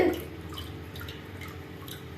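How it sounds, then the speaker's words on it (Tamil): Water drains off freshly washed poha (flattened rice) in a vessel, giving faint, close drips and trickles over a quiet background. "நல்லா தண்ணியை வடிச்சுக்கலாம்."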